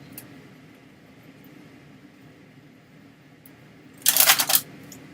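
A deck of playing cards being shuffled, one quick riffle of crisp flutters bursting out near the end after several seconds of quiet room hiss and faint handling.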